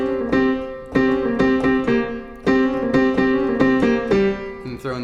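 Piano playing a fast blues riff with an added G, sharp repeated note clusters struck in quick rhythmic bursts, close and clear, with no voices over it.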